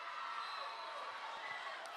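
Volleyball arena crowd on its feet at a Baylor vs Tennessee women's match as Tennessee serves for the set, a broad, steady roar of cheering that holds at an even level, with a commentator's voice faintly over it.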